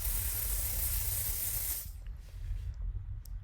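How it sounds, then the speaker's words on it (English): Setting spray misted from close range onto a damp beauty blender, a dense, loud hiss lasting under two seconds before stopping abruptly, leaving faint quiet handling sounds. "I'm just spraying this real close so I don't make a mess"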